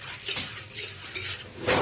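Veg keema being stirred in a pan, giving a short run of soft scraping and clinking from a spoon against cookware, close and moderately loud, with no voice.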